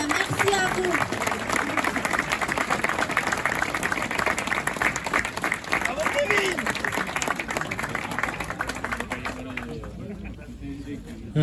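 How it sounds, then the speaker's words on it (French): A crowd of striking workers at the Chinon nuclear power plant claps in a sustained, dense round of applause with some cheering voices mixed in, tapering off near the end. "je voudrais qu'on applaudisse"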